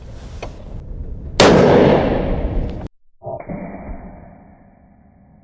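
A single sharp, very loud 300 PRC rifle shot fired through a muzzle brake cracks nearby and echoes away over a couple of seconds before quieter handling noise follows.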